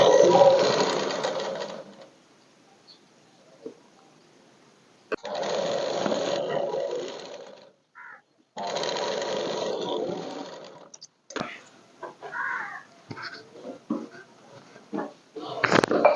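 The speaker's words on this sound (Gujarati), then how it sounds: "તો આ રીતે આપણે કાપાની સિલાઈ આ બાજુ કરી દીધી છે।" A sewing machine stitches the slit of a dress in three steady whirring runs of about two to three seconds each, separated by quiet pauses, with a voice speaking softly between and after the runs.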